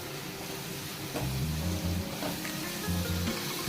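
Chopped onions sauté in a pan over a medium-low gas flame, giving a steady, soft sizzle with faint stirring sounds and no talking.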